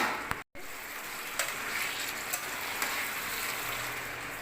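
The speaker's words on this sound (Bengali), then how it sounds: "সব কিছু একসাথে কষিয়ে নেব।" Chicken and fried taro sautéing in a pan give a soft, steady sizzle with occasional stirring scrapes, continuous and moderately close, with a brief dropout near the start.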